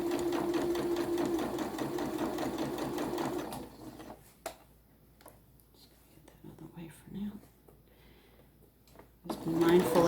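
A sewing machine stitches down the side of a fabric holiday tree decoration, a fast steady whirring run that stops partway, then quiet handling noises and a short burst of stitching again at the end.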